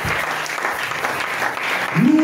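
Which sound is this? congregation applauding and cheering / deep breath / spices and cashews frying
congregation applauding and cheering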